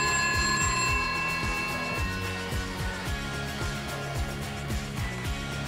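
A bell rings on and on in fast, repeated trills with a regular pulse, loud and close with no voices.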